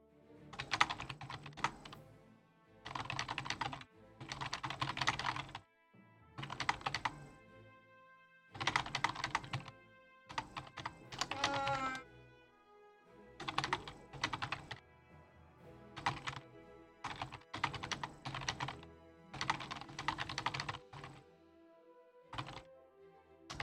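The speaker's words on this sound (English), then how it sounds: "It is angry form typing." Someone types angrily on a computer keyboard, delivering rapid bursts of sharp clattering keystrokes separated by short pauses, fairly close and repeated over and over.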